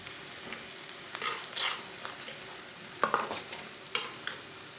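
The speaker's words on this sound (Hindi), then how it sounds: "इसे चम्मच चलाते हुए ब्राउन कर लेना प्याज को।" Chopped onion frying in oil with cumin seeds and whole coriander, stirred with a spoon: a soft steady sizzle broken by several sharp scraping bursts from the spoon against the pan.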